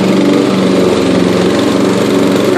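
Yard King riding lawn mower tractor engine running steadily while cutting grass, a loud, close, continuous droning hum with no talk over it.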